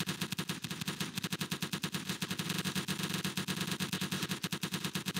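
Continuous rapid machine-gun fire on a Roblox D-Day beach battle, steady rhythmic bursts of evenly spaced shots heard at moderate volume with no talking.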